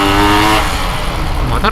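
A Yamaha RX-King two-stroke motorcycle engine revs hard near the top of its range, its buzzing tone breaking into rough, popping misfires, close and loud.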